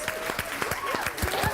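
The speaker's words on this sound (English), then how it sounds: "Massive round of applause, guys." Year 7 pupils at a school clap together in a sustained round of applause, a dense patter of many hands with individual claps standing out close by.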